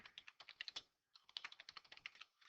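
A computer keyboard clatters as a surname is typed into a Google Form, with two quick bursts of close, soft keystrokes split by a brief pause.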